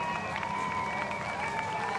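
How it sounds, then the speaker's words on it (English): A Pride Parade crowd on Whyte Avenue in Edmonton claps and cheers in a steady, moderately distant wash of applause, with a faint tonal whine running through it. "Listen to the crowd."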